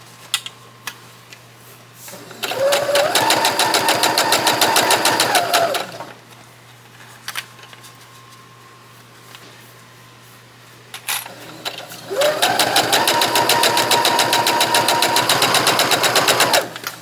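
Sewing machine back stitching apron fabric: two bursts of rapid, rhythmic mechanical stitching, each lasting a few seconds and separated by a quiet pause, close and loud.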